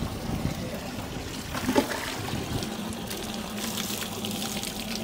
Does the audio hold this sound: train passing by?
no